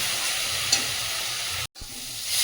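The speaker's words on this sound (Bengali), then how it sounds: "মশলাটা ভালো করে কষিয়ে দেবো।" Spice paste made with Kashmiri chili powder and a little water is frying in a pan with a steady hissing sizzle, cut off by a brief silent gap and then resuming, with no voices.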